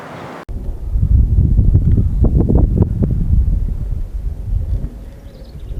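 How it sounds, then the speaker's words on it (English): Strong Southern California wind buffets the microphone with a loud, low rumbling roar that swells and gusts, then eases slightly toward the end. "it's windy here in Southern California"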